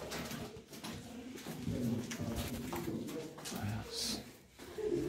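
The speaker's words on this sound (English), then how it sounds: "Oh, is that pigeon?" A pigeon coos inside an abandoned asylum complex, soft repeated low calls mixed with people talking nearby and scattered footsteps and rustling.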